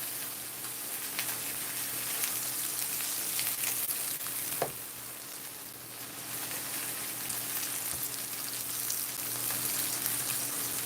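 A rack of lamb sears in a hot pan with a continuous, even frying hiss, broken by an occasional faint knock or scrape.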